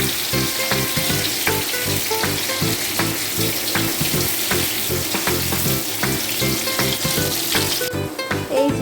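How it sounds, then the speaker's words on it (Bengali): Potatoes frying in hot oil in a pan, a continuous close sizzle with rhythmic stirring scrapes throughout, loud and steady with no talking. "আলুগুলো একটুখানি ভাজা ভাজা হবে"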